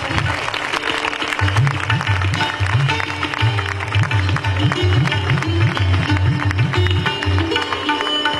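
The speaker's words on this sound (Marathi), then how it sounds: "जरा टाळ्या वाजूयात" Applause rises from the audience at a school get-together, a continuous dense patter of clapping with a rhythmic pulse of steady beats running beneath it throughout.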